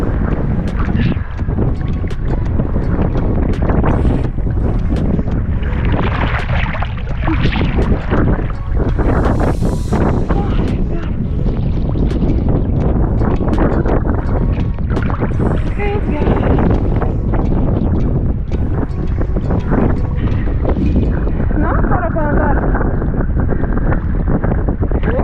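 Strong wind at a Mykonos beach buffets the microphone in a loud, continuous roar that barely lets up, with voices faintly present under the rushing noise.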